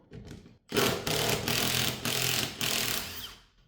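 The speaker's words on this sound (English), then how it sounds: "We have 12mm bolts over here. So we undo that one." A power tool buzzes in loud, steady bursts while undoing 12mm bolts on a Volvo 240 driveshaft, running after a short quiet lead-in and stuttering through several brief dips before winding down.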